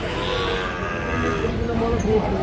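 A bull calf at a cattle market moos in a long, drawn-out low call, fairly close, with faint background murmur.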